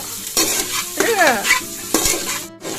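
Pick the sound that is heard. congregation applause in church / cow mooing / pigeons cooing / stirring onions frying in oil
stirring onions frying in oil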